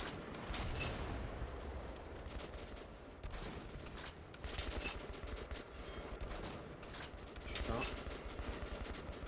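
Gunfire in the video game Metro Last Light: sustained bursts of automatic weapon fire and mechanical clatter, dense and continuous, with a man muttering briefly in French between shots.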